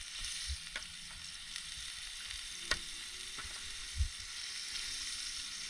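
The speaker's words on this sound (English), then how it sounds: "It's already starting to sizzle." Steady crackling sizzle of onions frying in a pan, continuous and close, with a few faint clinks and a low thump.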